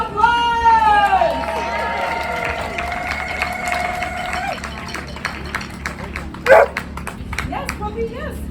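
A puppy barks and yips at the 2021 Peoplehood Parade outdoors, with bright whining cries early on and a sharp bark later, heard among people talking and some clapping.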